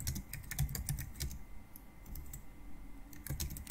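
Someone types a comment on a computer keyboard. Close, quiet, irregular key clicks come in short bursts, with a brief pause partway through.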